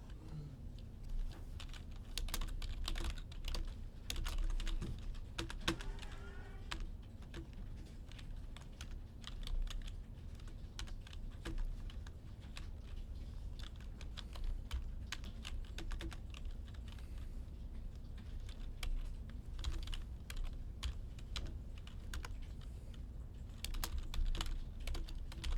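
Steady, continuous typing on a computer keyboard while entering data into an Excel spreadsheet, with dense clusters of close key clicks and brief pauses throughout, and no voice.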